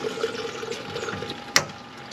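Water gushes steadily from a fountain tap into a bottle on the Camino de Santiago, a continuous close splashing rush with a brief sharp knock near the end.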